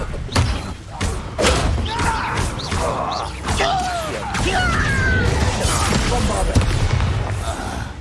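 Spell effects crackling and whooshing in a Harry Potter video game, with heavy thuds, shattering bursts and swirling magical tones over a dense, loud soundscape, close and continuous with no talking.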